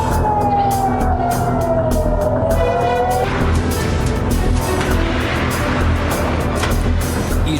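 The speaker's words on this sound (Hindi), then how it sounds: "ईरान की मिसाइलों की आहट मिलते ही सायरन बज रहे हैं" Air raid sirens wailing in Tel Aviv as a warning of incoming Iranian missiles, a steady falling siren tone over a dense, loud outdoor rumble with no talk.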